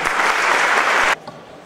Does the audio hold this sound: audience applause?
yes